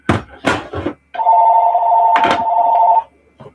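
Telephone ringing from a played cassette tape, a single steady electronic ring tone lasting about two seconds, preceded by a few sharp clunks and thumps and followed by a brief knock.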